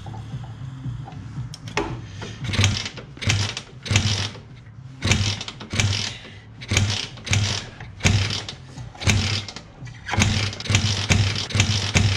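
Repeated pull-start attempts on a kart engine, a rhythmic series of loud mechanical cranking bursts about once a second that never settle into a running idle.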